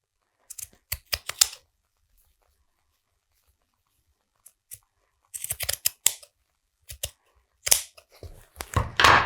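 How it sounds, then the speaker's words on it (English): Scissors snip through a lace doily to split it into two triangles, crisp close cuts in short bursts separated by quiet pauses, with a longer run of rapid snips toward the end. "I'm just going to cut it down here so that I've got two kind of triangles."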